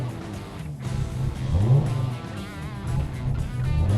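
Rally car engine at a rally event picking up throttle in first gear, a low idle that rises into revving bursts and falls back, close and fairly loud inside the car.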